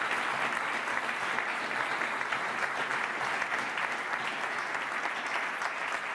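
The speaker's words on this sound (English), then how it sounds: "a big round of applause to all the nominees and to all the award recipients" Sustained applause from the crowd at the 2023 Canadian Premier League Awards for the nominees and award recipients, a thick, even roar of clapping held at steady strength from start to finish.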